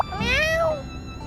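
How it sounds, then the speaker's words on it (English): A single clear cat meow in the video game My Time in Sandrock, rising then falling over about a second, close and fairly loud with no talk over it. "Sweet, so now we've got a pet cat."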